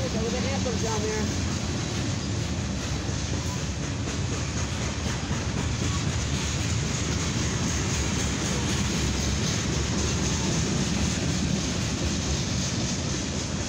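An eastbound CSX mixed freight train with grain cars rolls steadily past close by, a continuous loud rumble and rattle of wagons with a brief voice early on.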